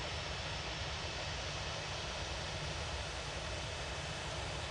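A Ryanair airliner departs Manchester Airport for Brussels, its jet engines giving a dense, even roar that fills the whole stretch, moderately loud with no voices.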